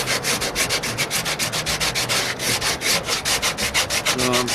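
Rhythmic back-and-forth sanding of hardening body filler on the fender of a 1968 AMX under restoration, a steady rasping scrape repeating at an even pace, close and loud, with no talking.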